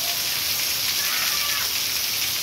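Heavy nighttime rain in Amaniutuba, Ceará, heard from a porch: a dense, even hiss of downpour filling the air, close and constant, with no distinct drops or voices standing out.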